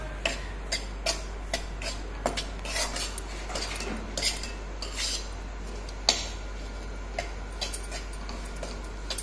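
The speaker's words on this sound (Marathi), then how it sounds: "गॅस कमी जास्त करून असं लालसर होईपर्यंत भाजून घ्यायचा" Rajgira flour is dry-roasted in a pan over the gas, with repeated sharp clicks and taps of a spoon scraping and stirring against the metal over a low background hum.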